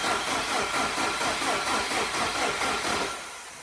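A Land Rover 90 2.5 petrol engine runs steadily with a rough, pulsing rumble, then eases off and quietens near the end. No voices.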